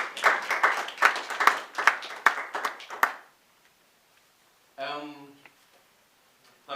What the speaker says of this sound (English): I think he deserves a better round of applause